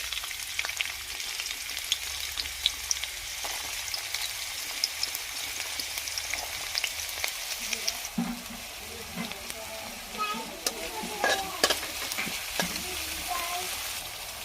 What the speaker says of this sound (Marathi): जिरे तडतडले की त्यामध्ये कांदा घालूयात